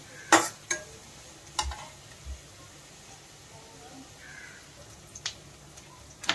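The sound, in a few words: onion being lightly roasted in a pan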